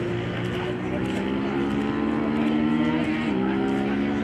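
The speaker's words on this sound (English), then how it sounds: "Sounds like they got motorcycles over there today." Motorcycles lap the old track at Toronto Motorsports Park, heard from a distance as a continuous, droning engine whine whose pitch shifts and falls near the end.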